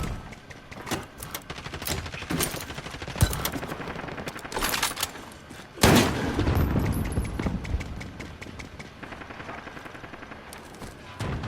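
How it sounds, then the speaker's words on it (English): Heavy video game combat with rapid bursts of automatic gunfire, a large explosive boom from a rocket hit midway, and a droning rumble underneath, loud and dense throughout. "Missile ready to launch."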